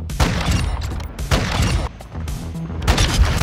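Rapid bursts of gunfire in a Modern Warfare 2 multiplayer match, loud, close volleys of shots that come in repeated clusters with booming low end and almost no pause between them.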